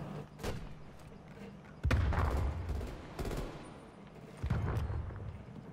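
Gunfire crackles in Call of Duty Black Ops Cold War, a few heavy bursts and booming shots separated by short lulls, loud and close over a low battlefield rumble.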